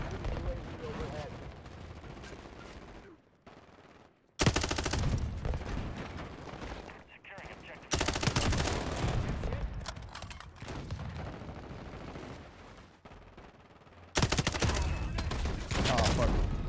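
Loud bursts of gunfire in a military shooter video game, with rapid automatic fire and heavy blasts in several dense stretches broken by brief quieter gaps, with voices talking over the fighting.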